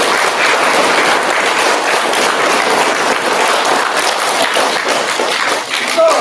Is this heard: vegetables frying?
no